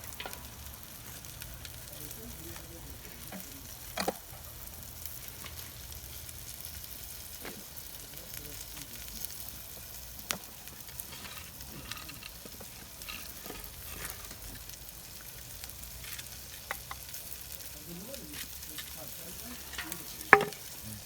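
Lentil bulgur pilaf sizzles and fries in a pan over an open fire outdoors, a quiet steady crackle with occasional stirring clicks and scrapes spread across the clip.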